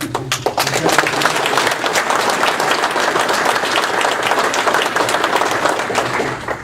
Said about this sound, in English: can we give a round of applause for the state troopers who've made my life safe and tenable since I've been governor